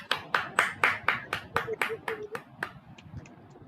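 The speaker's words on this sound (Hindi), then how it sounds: "जोरदार ताली बजाते हैं" Participants in a meditation session clap loudly in a steady run of about ten sharp claps that gradually soften and fade, with faint voices underneath.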